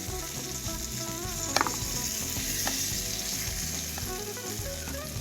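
Eggplant slices fry in oil in a kadai with a loud, continuous close sizzle, broken by a few sharp clinks of stirring.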